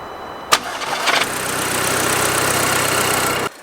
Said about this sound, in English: So what we'll do, we'll start it up now, check it for leaks.